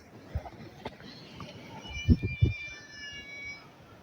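A cat gives a drawn-out, wavering meow near the end, faint against a low background, with a few soft knocks and thumps nearby.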